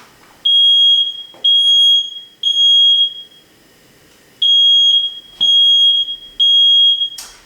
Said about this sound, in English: FireAvert can hear the smoke alarm up to 60 feet away